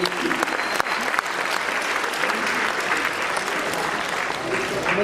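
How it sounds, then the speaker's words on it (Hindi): An audience claps steadily for the performers at a live stage show, a dense, sustained wash of applause from a large crowd that holds evenly throughout. "बहुत सारी तालियां बजाइए अपने प्यारे फनकारों के लिए"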